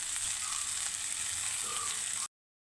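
Chopped red spinach frying in a pan gives a steady, close, loud hiss that runs unbroken for about two seconds and then cuts off abruptly, with no voices.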